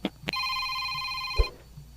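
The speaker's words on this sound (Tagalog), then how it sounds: "Oh, uy, ang akong cellphone." A cellphone rings with a brief, bright electronic tone lasting about a second, alone in a quiet room.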